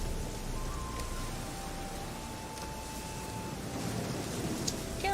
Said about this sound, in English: Seems really raining in this game.